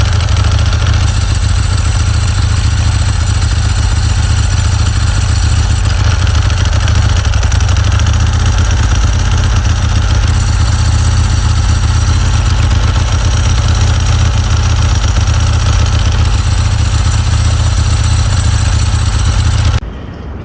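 A Ducati 916 SP3 motorcycle with a dry clutch idles close by, a deep, steady exhaust rumble with a faint mechanical clatter, loud and constant before cutting off abruptly at the end.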